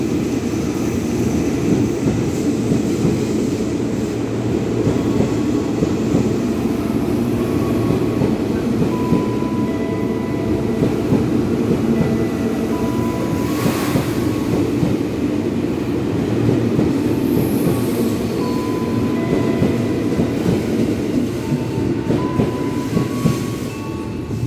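A KRL commuter train rolls through a Jakarta station, a continuous loud rumble of wheels and carriages close by for the whole stretch, with faint announcement-like tones mixed in and no talk.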